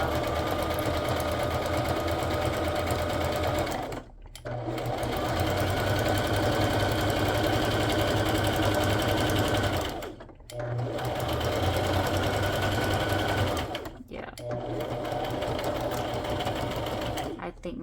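Sewing machine stitching a slimline journal base, a steady mechanical whirring drone running in long bursts with three brief pauses between runs.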